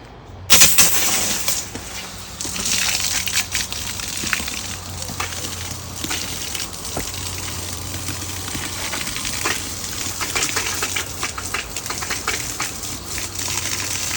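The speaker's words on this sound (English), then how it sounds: "So we want to keep running until it stops spitting out air." A garden hose with its nozzle open gushes water outdoors, spitting and sputtering irregularly as trapped air bursts out of the line in a continuous, close, noisy stream.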